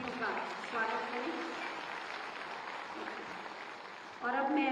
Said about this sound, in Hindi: एक बार मैं चाहूंगी जोरदार तालियों से आप मंचासीन समस्त अतिथियों का स्वागत करें